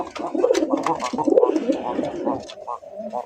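Pigeons coo in soft, throaty, repeated rolling calls close by, with people talking over and between them.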